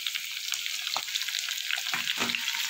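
Potatoes frying in a pan with salt and turmeric, giving a bright, continuous hiss and sizzle with a few short scrapes of stirring, close and with no talk.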